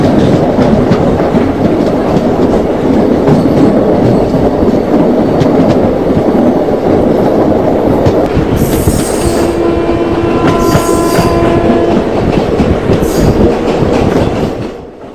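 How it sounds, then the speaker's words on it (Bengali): An Indian passenger train runs toward Kashi and Varanasi with a loud, steady rumble and rhythmic clickety-clack, heard close from on board. Brief high wheel squeals cut through near the end, with no talk. "এখন একদম সঠিক টাইমে গাড়ি চলছে।"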